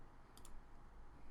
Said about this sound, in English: I'm going to click save here.